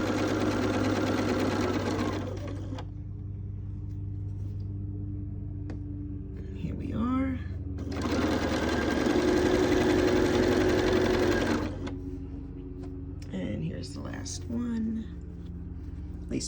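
A sewing machine stitches quilt fabric in two sustained runs of steady, loud whirring, with a quieter stretch between them where handling noises and a low voice are heard.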